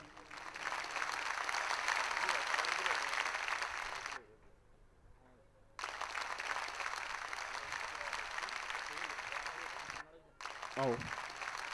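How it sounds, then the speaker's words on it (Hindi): Applause from the audience at a live Shrimad Bhagavat Katha religious gathering, sustained crowd clapping that fills the air in long loud stretches, broken by brief quieter gaps where a voice is heard. "और इनके लिए जोरदार तालियां बजाते रहिए।"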